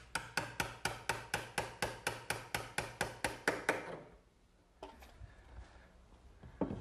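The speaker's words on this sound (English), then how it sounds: "I'm just removing the excess with a good sharp chisel" A sharp chisel pares excess wood from a shoulder cut in a quick, even series of about fifteen close, crisp knocks, which stop abruptly before a quieter stretch of faint shuffling.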